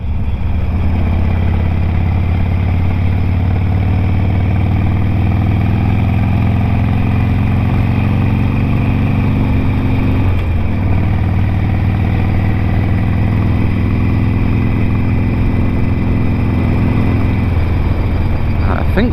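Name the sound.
Harley Davidson Sportster 883 motorcycle engine running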